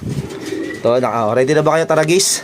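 A very large pet pigeon gives a short, low coo close by, quickly followed by someone speaking right next to it.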